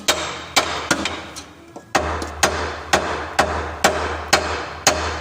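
A hammer taps the A-frame ball joint of a Land Rover Defender Td5, about a dozen sharp metallic knocks at a steady beat, close and loud with no talk.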